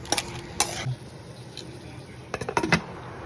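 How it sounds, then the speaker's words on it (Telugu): Crab pieces stirred into chili powder frying in a pan, giving short scraping and clattering strokes in two bursts with a soft sizzle underneath, close and moderately loud. "కారం అంతా పీతలకు పట్టేలా కలుపుకొని మూత పెట్టుకొని కాసేపు మగ్గనివ్వండి."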